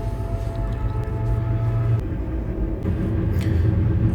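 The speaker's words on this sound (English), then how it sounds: "holy crap, this is a long ass train." A long train rumbles past close by, a heavy continuous roar of rolling wheels and clatter that swells and persists throughout.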